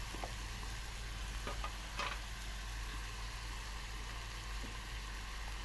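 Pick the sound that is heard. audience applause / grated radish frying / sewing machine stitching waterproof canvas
grated radish frying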